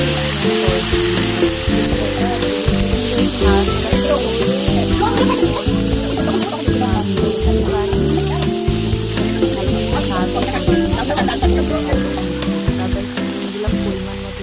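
Bottle gourd stems and potatoes fry in oil in a pan, a loud steady sizzle with clatter and stirring knocks throughout, close up and with no one talking.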